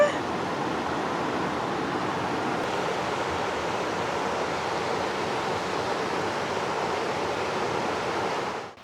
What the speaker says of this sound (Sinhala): වතුර ගල් වල වැඩිදී ඇවිස්සෙනවා.